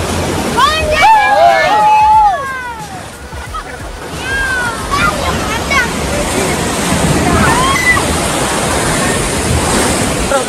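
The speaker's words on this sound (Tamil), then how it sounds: "அங்க பாருங்க நயாகரா ஃபால்ஸ் தெரியுது" A waterfall, named as Niagara Falls, pours with a continuous rushing roar, steady and fairly loud, while excited voices talk and call out over it during the first few seconds and again later.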